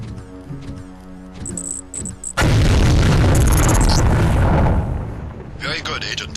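Explosions in the Deus Ex video game, a sudden loud blast that roars and rumbles for a couple of seconds before fading, following quieter game sounds and music.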